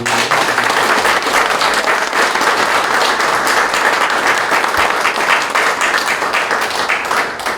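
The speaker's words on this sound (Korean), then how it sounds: "큰 박수로 우리 함세웅 신부" Loud, sustained applause from the audience at a Catholic memorial ceremony held in an education hall, many hands clapping densely and evenly without pause.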